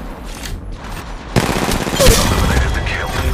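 Enemy gunfire in the mobile battle royale game Apex Legends Mobile, rapid bursts of shots rattling close and loud after a quieter stretch, mixed with in-game booms and mechanical clatter.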